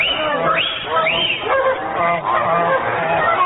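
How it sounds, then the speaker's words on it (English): Wild swans call in a radio drama sound effect. Several loud, honking, goose-like cries with rising and falling swoops overlap in quick succession, close and alone with no talk over them. "These 6 brothers shall be turned into wild swans."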